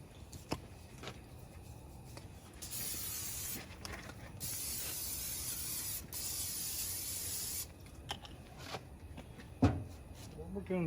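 Steaks hit a Blackstone griddle heated to 500 degrees and give off long, loud bursts of hissing sizzle between quieter stretches, with someone talking and scattered clinks of utensils.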